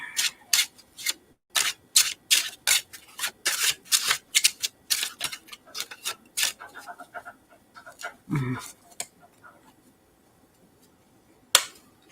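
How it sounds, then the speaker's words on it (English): A deck of tarot cards is shuffled in quick, crisp riffling bursts, fairly close and quiet, before the cards settle into near silence, with one sharp tap near the end. "Just gonna shuffle a little bit before we start."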